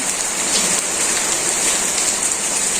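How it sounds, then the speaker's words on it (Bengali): Steady, close rain falls in a Bangladeshi village in the early morning, a dense, even patter on surfaces that holds at a constant level throughout with no voices. "অতিরিক্ত বৃষ্টি আর ভাল লাগে না"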